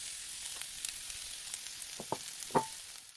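Onions, curry leaves and coriander fry in a pan with a steady soft sizzle, broken by a few brief scrapes of stirring near the end.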